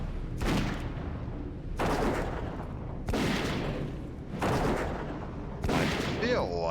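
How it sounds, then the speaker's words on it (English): Volleys of gunfire in World of Warcraft during the Death Knight starting area, aimed at the player, recurring as broad booming bursts about every second and a half, steady and moderately loud. "Who's shooting me?"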